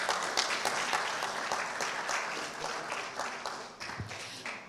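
Sustained audience applause at a Ghanaian agribusiness forum, dense steady clapping filling the room for several seconds, moderately loud with no talk over it.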